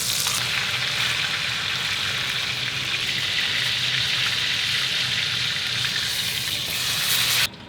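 A ribeye steak pan-searing, a loud close dense sizzle that holds steady and unbroken for several seconds before cutting off abruptly near the end, with no voices over it.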